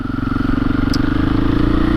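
A 2021 KTM 500 EXC-F motorcycle rides around town, its engine loud and close with a steady, throbbing pulse and no talk over it.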